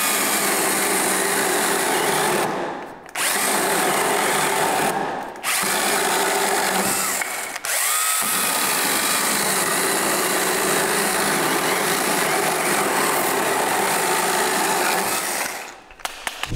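Cordless 12V or 18V battery pole saw cutting a branch, a loud, high, whining motor drone with a chain rattle, running steadily with brief pauses and then cutting out near the end.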